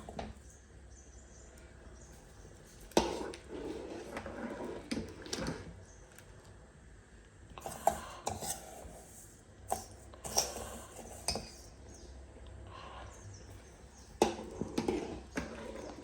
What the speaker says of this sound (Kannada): ಹಿಂಗೆ ಹಾಕೊಂತ ಕಲ್ಸ್ಕೊತನ ಅಳ್ಳಾಡ್ಸ್ಬೇಕು, ಇಲ್ಲಾಂದ್ರೆ ಗಂಟು ಆಗ್ತಾವ.